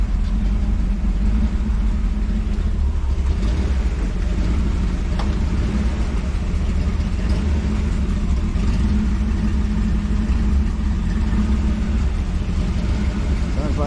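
An old shop truck's engine runs continuously with a low, rough rumble, fairly close and loud, with someone talking over it.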